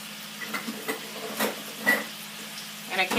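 Mushrooms and garden onions sizzle in a pan over medium heat, a soft steady fry broken by scattered taps and scrapes of stirring, fairly quiet and close.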